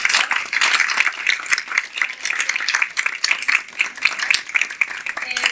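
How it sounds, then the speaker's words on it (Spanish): Steady applause from a crowd, dense clapping that continues throughout without pause. "Rosario, un aplauso para ella."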